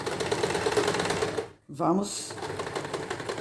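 A sewing machine stitches children's shorts fabric in rapid, even clicking bursts, pausing briefly before running again as a voice speaks over it.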